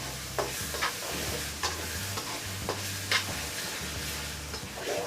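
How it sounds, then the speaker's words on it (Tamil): A ladle scrapes and stirs sautéed tomato and onion paste for Koduva fish curry in a pan, a soft, steady sizzle broken by repeated light clinks and scrapes. "இப்போ கரண்டி போட்டு கலரி விட்டால் நல்லா பேஸ்ட்டு பதத்துக்கு வந்துடும்."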